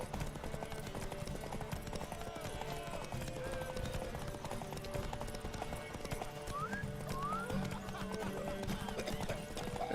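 Horse hooves clip-clopping at a steady galloping rhythm during a race in The Witcher 3, with occasional whinnies and game ambience layered over the continuous hoofbeats.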